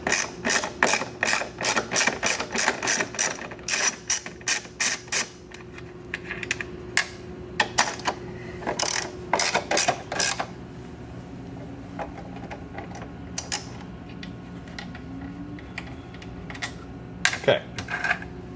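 Ratchet wrench loosening the strut nuts on a MINI Cooper, heard as fast rhythmic bursts of sharp clicking that stop and start across the clip, close and fairly loud, with quieter metallic handling between runs.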